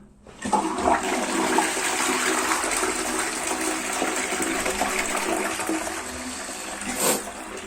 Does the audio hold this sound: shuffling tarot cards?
no